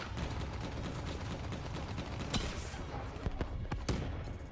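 Gunfire shooting down bats in Black Ops, a continuous rattle of rapid shots with several sharper, louder cracks toward the end, fairly close and with no talking.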